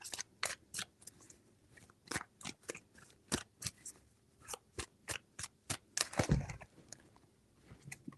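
Rhythmic crisp snapping bursts of tarot cards being shuffled, repeated steadily at close range, with one longer riffle near the middle; no talking.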